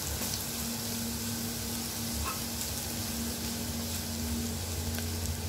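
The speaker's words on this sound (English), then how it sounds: "Over medium heat, you are going to cook the garlic till golden brown." Garlic frying over medium heat while being stirred in a pan for pizza sauce, a steady soft sizzle running unbroken and fairly faint throughout, with no voices.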